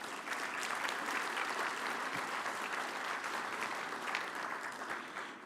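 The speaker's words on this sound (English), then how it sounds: "So let's give them all a round of applause." An audience at a conference keynote dinner gives sustained, even applause, a continuous wash of many hands clapping that stays fairly faint and distant throughout, with no voices standing out.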